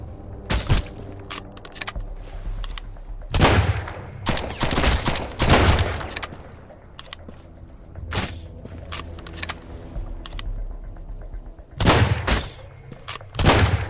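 Gunfire in the video game Sunkenland: repeated loud broadband shots and bursts spread across the stretch, some clustered near two seconds apart, with a steady game ambience underneath and no talk.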